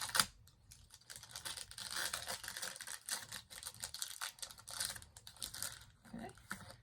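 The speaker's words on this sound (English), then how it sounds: "This one is Astral Radiance Sword and Shield. Let's open her up and see what we got." Astral Radiance Sword and Shield Pokémon booster packs being torn open by hand, with continuous crinkling and rustling of foil wrappers and faint handling noises close to the microphone.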